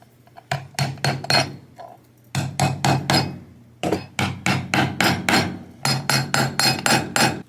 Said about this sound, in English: use an old Phillips head screwdriver for a hole punch